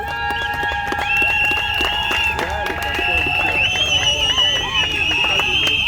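Crowd applause at a civil wedding, a sharp clatter of many clapping hands close by, steady throughout, mixed with music and cheering voices.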